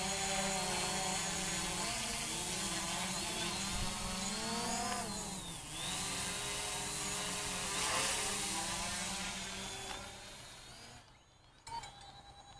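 A Hubsan Zino drone flying close by with a steady, loud buzzing whine, its pitch drifting up and down as it maneuvers, then fading near the end.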